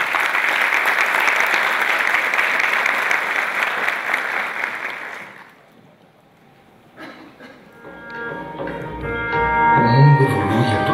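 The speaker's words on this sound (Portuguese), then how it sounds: "Vamos receber a equipe da Vale com os aplausos de vocês." Dense, loud applause from an audience at a Brazilian Lean convention welcoming a Vale team, a steady wash of clapping for about five seconds that fades out, followed by music.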